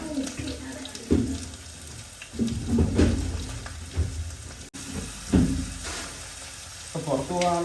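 Onion and green chili sizzle and fry in a pan, with stirring and clattering over a steady crackle as a person talks nearby.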